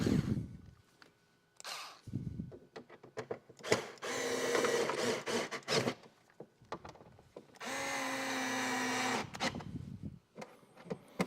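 A small electric driver whirs in several bursts while tightening bolts on saddlebag side lights of a 2018-or-newer Honda Gold Wing motorcycle, with longer runs and short pulses between quiet gaps.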